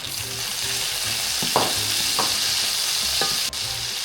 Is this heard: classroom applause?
no